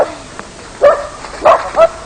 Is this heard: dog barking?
yes